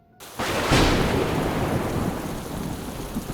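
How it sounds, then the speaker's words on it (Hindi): A sharp crack of thunder breaks into a long rolling rumble over a dense, steady downpour of heavy rain. "फिर सारे बादलों ने मिलकर जंगल में तेज बारिश करना शुरू कर दिया।"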